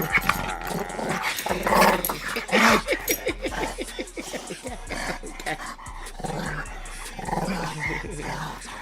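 A dog growls over several seconds in low, rumbling bursts, fairly close and loud. A person talks to it in a soft, affectionate voice throughout.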